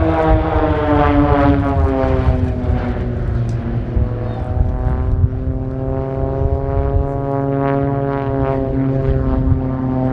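Propeller aircraft of the Blades aerobatic team fly the Champagne Split manoeuvre at an air display, a loud, sustained droning engine roar with strong steady tones that shift slowly in pitch as they pass.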